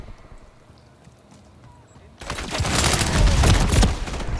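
Sustained automatic gunfire in the 2023 Call of Duty: Modern Warfare 3 multiplayer video game, starting abruptly after a quiet stretch and continuing as a loud, dense burst of rapid shots to the end.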